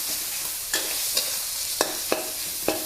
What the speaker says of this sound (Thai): ให้เหยาะซีอิ๊วขาวค่ะ ลงไปนิดหน่อย ผัดค่ะ